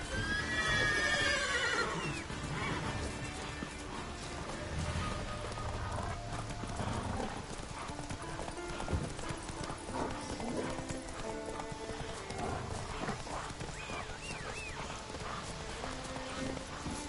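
Roach the horse gallops with rhythmic clip-clop hoofbeats and lets out a high neigh at the start, in The Witcher 3: Wild Hunt, with game music and ambience underneath throughout.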